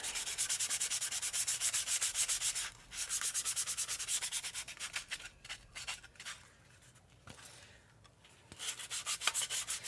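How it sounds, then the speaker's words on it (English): Stapler being sanded with a 220 grit sanding block, rapid rhythmic scratchy rubbing strokes, loud and close, pausing briefly midway before resuming. "take my 220 grit sanding block and I'm going to sand to prep this stapler"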